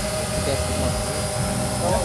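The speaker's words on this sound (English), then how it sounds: "Throttle like this, it will arm the quadcopter." Quadcopter drone hovering after being armed with the throttle, its motors giving a steady, loud whine with slightly wavering pitch, close by and continuous throughout.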